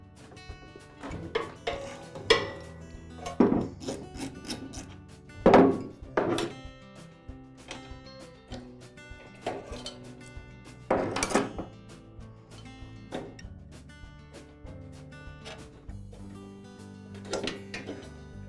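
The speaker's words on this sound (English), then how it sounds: "I'll use a socket wrench on one side, and I'll secure the opposite side with a pair of channel locks." Socket wrench working on the transmission pulley of a Troy-Bilt garden tiller, a series of close metallic clanks, ratcheting clicks and knocks in irregular bursts.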